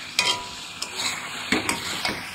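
Potatoes and capsicum for Bengali aloo dum being stir-fried in a pan, with a steady sizzle broken by several sharp scraping stirs of a spoon against the metal, close and clear with no talking.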